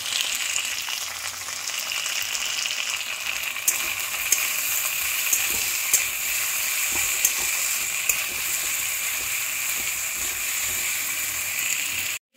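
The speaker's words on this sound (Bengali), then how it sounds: "দিয়ে ভালো করে আবার নাড়িয়ে নিচ্ছি, মানে কষিয়ে নিচ্ছি।" Prawns fry in a spice paste of chili paste, salt and turmeric while being stirred, giving a steady, close sizzle with scraping spoon strokes throughout and no talking.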